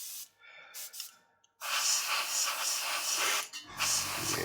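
Short bursts of an airbrush spraying thinned paint, a brief soft puff early on, then a steady close hiss that cuts out near the end.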